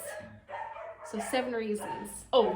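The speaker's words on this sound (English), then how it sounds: "That's my dog." A small dog yips and barks in short bursts indoors while someone talks over it, the barks sharp and close, one louder bark at the end.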